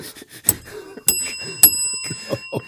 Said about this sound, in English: Too early in the morning for a bell?